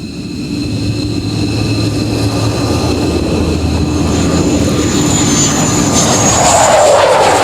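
An F-15 fighter jet flies past with a loud, steady engine roar that swells toward the end as a whining pitch sweeps upward, heard alone without talk.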